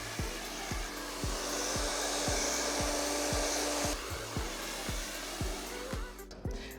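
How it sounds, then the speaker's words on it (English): A hair dryer blowing during a salon blowout, a steady loud whirring roar running throughout, with a regular rhythmic clicking pulse beneath and brief rustling at the end. "Simone, look how great your blow dry looks"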